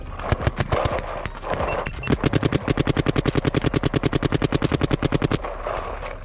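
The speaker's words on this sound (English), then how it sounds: "People are shooting hard paint." Paintball guns firing on an outdoor paintball field, a long run of rapid, sharp pops in a steady rhythm, loud and close, with some scattered shots before and after.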